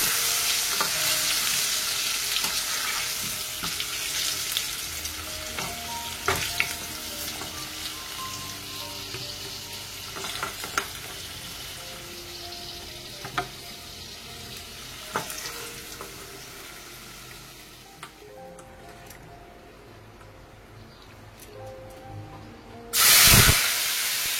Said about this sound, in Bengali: চলো আমি চিকেনের জন্য আলুগুলোকে ভালো করে ভেজে নিই